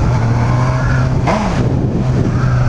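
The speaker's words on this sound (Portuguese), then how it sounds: "A moto tá derrapando, ó." A Honda Hornet motorcycle skids up close, a steady low engine drone running under a brief rising and falling tire squeal midway through.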